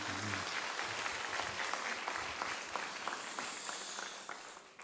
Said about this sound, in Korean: 박수 한번 크게 응원해 주시기 바랍니다